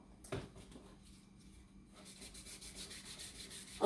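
Sandpaper is rubbed by hand in short repeated scrubbing strokes while wet sanding a small repaired crack area on a car; the rubbing is close and fairly quiet, growing denser in the second half.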